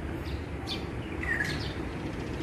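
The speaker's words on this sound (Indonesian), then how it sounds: "Suaranya burung tangkar uli menggoda ya, tapi nggak kelihatan." Faint calls of a tangkar uli bird chirp a few times over a constant hiss of outdoor background noise, distant and brief.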